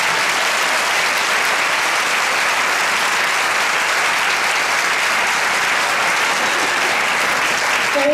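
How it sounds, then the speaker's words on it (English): A school opening-day audience claps loudly in a large hall, a dense, steady round of applause that holds at full strength for the whole stretch with no voices over it. "Let's give him a round of applause right now."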